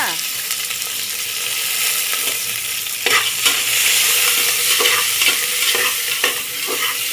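Chopped onions fry for a wedding-style biryani, giving a loud, dense, continuous sizzle. Busy stirring scrapes run through it, and bursts of crackling rise partway through.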